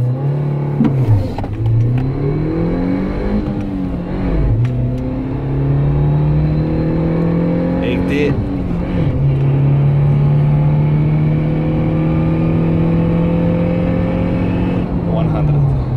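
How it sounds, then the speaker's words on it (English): A 2019 Suzuki Jimny 1.5 AllGrip accelerates hard from a standstill to 60 mph. The engine drone rises in pitch in repeated sweeps, broken by brief dips at each gear change, loud and close from inside the cabin. "I'm gonna do the test from 0 to 60 miles per hour in 3, 2, 1."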